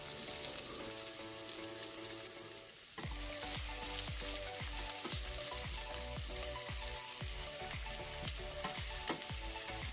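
Onions frying in oil in a pan for an egg curry with coconut milk, a loud continuous sizzle with a regular run of scraping stirs from about three seconds on, close and with no talk.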